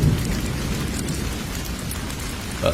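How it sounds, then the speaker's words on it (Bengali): Heavy rain pours steadily and loudly on a roadside, a dense continuous hiss with a low rumble beneath, with no voices. "বৃষ্টি যেন কিছুতেই থামছিল না। আর বৃষ্টির ফোঁটাগুলো বাড়তে লাগলো।"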